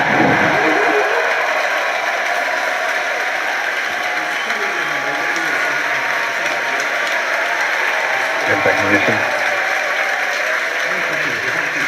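A crowd cheers and applauds during a SpaceX Falcon Heavy launch broadcast, a continuous wash of noise under someone commentator calling out the upper-stage engine ignition.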